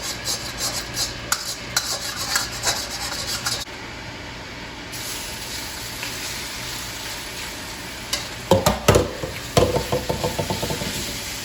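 Food frying in a freshly seasoned wok, a steady close sizzle with scraping and stirring; the texture thins in the middle, then louder clattering strokes against the metal follow near the end.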